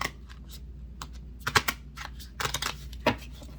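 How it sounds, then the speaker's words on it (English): Quick, papery riffling bursts of tarot cards being shuffled, irregular and close, with short pauses between clusters of flicks. "If you heard, that was a terrible shuffle."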